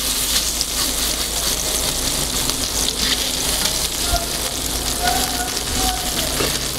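Homemade Kadirli sucuk sausages sizzle steadily in a pan, a continuous close hiss and crackle that runs unbroken throughout.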